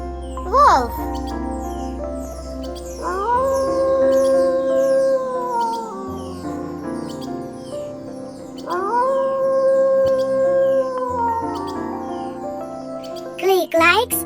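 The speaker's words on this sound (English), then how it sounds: "Wolf." A wolf howls in two long, sustained, wavering calls with a gap between them, clear and fairly loud, over a quiet background with brief chirpy tones at the start and end.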